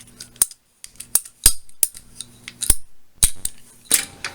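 Sharp, crisp snips of a blade cutting a groove into plastic pipe, about a dozen irregular clicks and scrapes close up, with quiet gaps between them and no talk.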